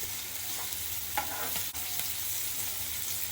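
Rava-coated mandeli fish sizzle in a pan as the pieces are flipped, a constant frying hiss broken by a few brief scrapes and taps of the turner. Nobody speaks.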